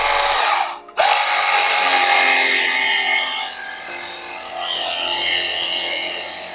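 A Makita 68V cordless pressure washer draws water from a bucket and sprays. After a brief cut near the start, a loud, steady motor whine and hissing jet run on with no talking.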